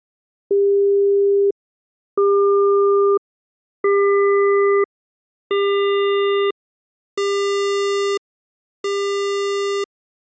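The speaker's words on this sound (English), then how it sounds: "let's listen to how the timbre also starts out as a sine wave and gradually approaches a square wave" Six steady one-second synthesized tones separated by short gaps, each a little brighter and buzzier than the last, morphing from a pure sine-wave hum toward a harsh square-wave buzz.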